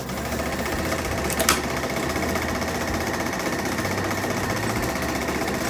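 A Super 8 film projector runs at 18 frames per second, giving a steady rapid mechanical clatter with a constant whirring hum, close and continuous, with one brief louder click partway through.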